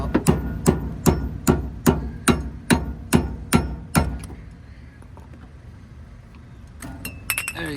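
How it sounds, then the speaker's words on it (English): Metal hammer blows rap sharply on the rusted rear hub bearing of a 2001 Honda Accord, about a dozen evenly spaced strikes, then a pause and a few lighter clinks. "Just keep tapping it in between."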